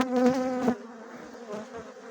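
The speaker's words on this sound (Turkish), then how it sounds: "Arılar şu an bana acayip şekilde saldırtıyorlar" Bees buzz close by in a steady droning hum that swells, fades slightly, then rises again, as they attack during a wild rock honey harvest.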